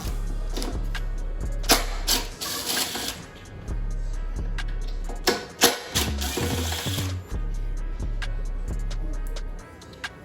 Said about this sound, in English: Going back to the T25 to remove these 2 screws.